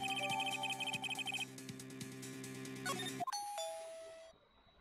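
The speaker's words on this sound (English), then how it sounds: "Ding dong." Electronic doorbell chimes in the Phoenix Wright trilogy video game, rapid repeating ding-dong tones over game music, then a few rising bell notes and a sustained tone fading out, clear and close.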